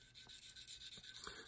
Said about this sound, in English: The stone that I'm working with at this point in the sharpening is a 1000 grit diamond waterstone.